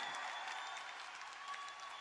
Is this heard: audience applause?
yes